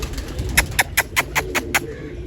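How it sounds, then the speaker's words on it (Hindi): A pigeon coos close by, a rhythmic series of about eight soft, evenly spaced pulses over light background noise. "ये किसी का कबूतर आया हुआ है"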